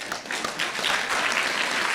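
Audience applause fills a hall, a dense crowd of clapping hands rising and holding steady at fairly loud level for about two seconds, no voices standing out.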